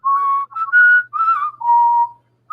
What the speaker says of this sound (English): Just start whistling.